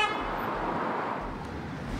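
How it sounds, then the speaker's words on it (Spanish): A car horn gives a short toot at a busy pedestrian crossing where traffic turns right continuously toward a bus stop. The brief blast comes right at the start, then gives way to steady road and traffic noise. "se arriesga a que los demás conductores le toquen el claxon"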